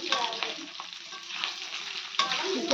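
Oil fries in a hot pan, a bright hissing sizzle that dips quieter midway and then flares up loud again near the end, with occasional soft stirring clinks.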